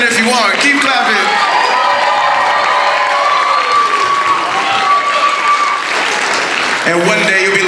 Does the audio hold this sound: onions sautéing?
no